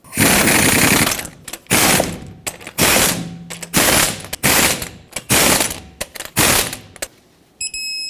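Repeated bursts of an impact wrench or ratchet tightening the six lug nuts on a 2004-2008 Ford F-150 front wheel, about seven loud, close rattling runs separated by short pauses, with no talking.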